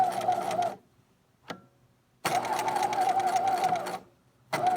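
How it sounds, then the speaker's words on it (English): A sewing machine whirs in fast, steady bursts while stitching a seam with backstitching, stopping briefly in between with a single click, then running again for a longer stretch. "I'm going to sew from one end to the other, and I'm going to back stitch"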